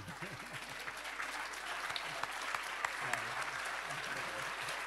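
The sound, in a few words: audience applause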